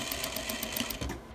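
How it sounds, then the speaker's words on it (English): Sewing machine stitching a 5/8 inch seam allowance on a long-sleeved blouse, a steady rapid needle clatter running evenly throughout at moderate volume with no talking. "Now we're finally at our sewing machine, and we're using a 5/8 inch seam allowance."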